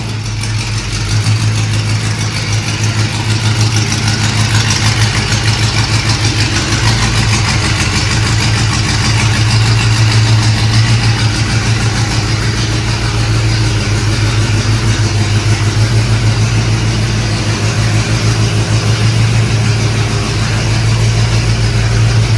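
1968 Ford Mustang Fastback idling with a loud aftermarket exhaust, a deep steady rumbling burble held close and loud for the whole stretch, no talking.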